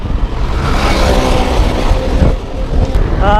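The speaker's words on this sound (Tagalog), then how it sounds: "Lakas ng hangin." Strong wind roars steadily against the microphone, a constant heavy rush of noise with no voices.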